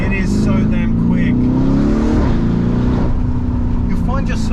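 Lamborghini Urus engine accelerating hard with the windows down, a loud rising roar that swells and fades as the SUV pulls away, with people talking excitedly over it.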